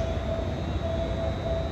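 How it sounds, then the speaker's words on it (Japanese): A steady low rumble of a train rolling into platform 1 at Sendai Station, with a thin sustained tone on top, continuous and fairly loud throughout. "1番線に当駅止まりの列車が参ります。"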